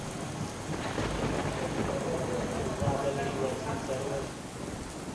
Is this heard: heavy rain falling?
yes